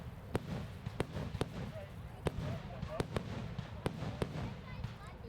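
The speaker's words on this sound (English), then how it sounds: "the day concluded with fireworks at the Townsend Ballpark" Fireworks bursting over a ballpark in Townsend, Wisconsin, heard from about a block away: a string of sharp, irregularly spaced booms and cracks over a rumbling background, with some crowd chatter underneath.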